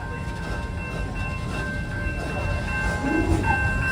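A ride train rumbles steadily at a station at Busch Gardens Tampa Bay, a low continuous roll with faint tonal hum and occasional clanks, fairly quiet and distant.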